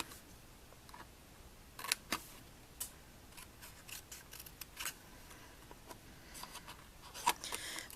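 Scissors snip away paper or cardstock for small Halloween test tube treat boxes, with scattered close, quiet cuts and soft paper rustles in an otherwise still room.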